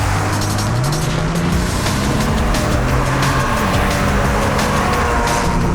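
A Porsche lapping the Buriram race circuit gives a loud, close engine howl that rises and falls through gear shifts, with rushing wind and road noise over the whole stretch.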